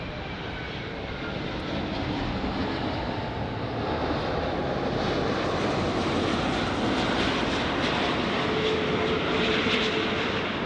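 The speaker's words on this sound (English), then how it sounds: "this one, Asiana Airlines 204 from Seoul, flying for 10 hours, 46 minutes." Asiana Airlines airliner arriving from Seoul at LAX airport, a loud, steady jet engine roar with broadband rushing noise that swells slightly and holds throughout, close by and alone without talk.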